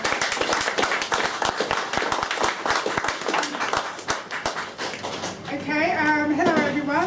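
An audience at an evening talk on media perceptions applauds as a speaker named Janine is welcomed: brisk, close clapping from a modest crowd that thins out and fades as a voice begins speaking near the end.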